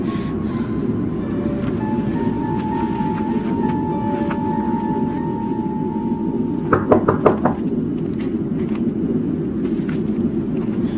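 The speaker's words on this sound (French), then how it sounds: "Frappe à la porte." A quick series of about five firm knocks on a door rises over a steady low rumble and tonal hum, near and loud, with no voices.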